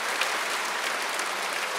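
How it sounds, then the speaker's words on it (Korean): Church congregation applauding to welcome newcomers, a dense, even round of clapping from many hands that holds steady throughout the brief moment. "저분 다 박수로 환영하세요"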